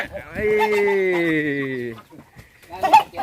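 A duck squawks loudly in a long, strained call as it is caught, then a flurry of close scuffling and shorter cries as people talk nearby.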